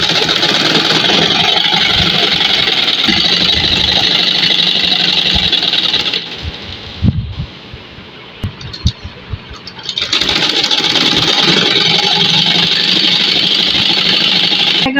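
A sewing machine stitches a kameez sleeve with a border, its motor whirring loudly and steadily, stopping for a few seconds in the middle before running on again.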